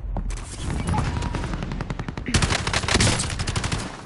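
Rapid, dense gunfire from Call of Duty Warzone: close, loud bursts of automatic shots crackle almost continuously, growing heavier toward the end amid game noise.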